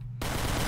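Loud gunfire erupts in the Gmod TTT game after a quiet start, a dense sustained burst that fills the rest of the moment without talk.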